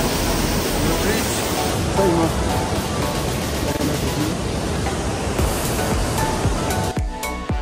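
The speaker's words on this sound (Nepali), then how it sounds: "लुम्बुर हिमालबाट आएको खोला" A mountain river flowing down from Lumbur Himal in Solukhumbu, a loud, steady broadband rush of water filling the whole scene without letup.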